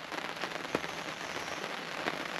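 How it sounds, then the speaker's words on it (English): Rain begins falling on a beach swag camp in the Australian outback, a steady soft patter and hiss of drops with a few sharper taps, faint and continuous. "but the rain has started."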